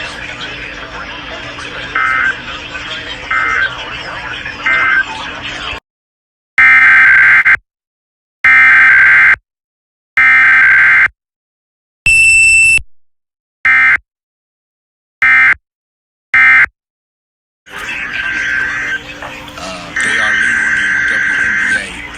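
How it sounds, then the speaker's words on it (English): A NOAA Weather Radio warning alarm weekly test sounds as a loud steady broadcast tone, breaking into a series of sharp on-off tone bursts with silent gaps before the continuous signal resumes. "This concludes the weekly test of the NOAA Weather Radio Warning Alarm."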